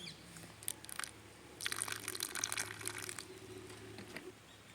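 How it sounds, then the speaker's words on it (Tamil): Water is poured slowly into the crown of a pineapple plant growing in a grow bag at home, giving faint, close trickles and splashes in short bursts over a quiet background. "குருத்துக்குள்ளே கொஞ்சம் கொஞ்சம் தண்ணி ஊற்றி விட்டுக்கலாம்."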